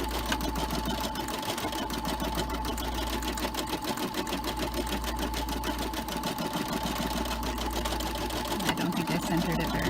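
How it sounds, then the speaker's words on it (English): An embroidery machine sews a fill stitch through several layers of felt for a 3D succulent, giving a steady, fast mechanical whir with a rapid needle rhythm that runs unbroken and close throughout. "it's going to start sewing it out. And it is having to go through a bunch of layers doing a fill stitch"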